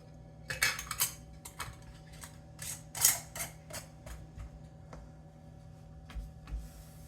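Close metal-and-glass clinks and scrapes of a lid being fitted and screwed onto a quart canning jar of pickles, a few sharp taps with quieter fumbling between, no talking.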